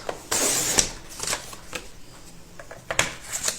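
Paper being cut for a scrapbook pyramid album, close rustling and cutting strokes from a paper trimmer, with soft handling noises between the cuts.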